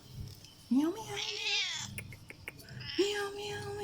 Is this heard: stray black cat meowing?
yes